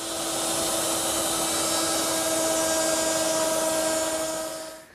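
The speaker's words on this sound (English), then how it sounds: "I want to round 3 edges at the router table" A router at a router table rounds the edges of 3/8 inch wood stock, a loud steady high whine that holds evenly for several seconds before spinning down.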